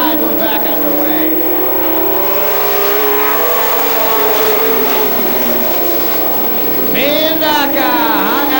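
Pro stock race cars howl around a track at a night race, engines roaring loud and continuous, with rising and falling pitch as cars accelerate and pass, while an announcer calls the action over them.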